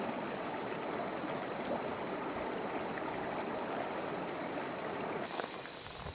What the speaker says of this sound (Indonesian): sungai dangkal dengan air yang sangat jernih yang mengalir tepat di tengah jalan yang kami lalui